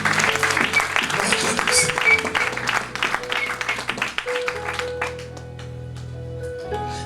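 A church congregation applauds to acclaim the Lord, a dense burst of clapping over sustained organ or keyboard chords that fades out after a few seconds, leaving the music ringing alone.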